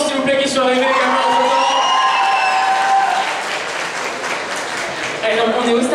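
Audience applause and cheering at a French roleplay contest event, a sustained loud wash of clapping with whoops and shouts that dips slightly near the end, then swells again.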